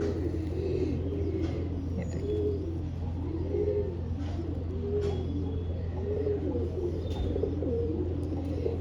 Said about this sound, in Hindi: ये शाहजहाँपुरी ये भी कबूतर है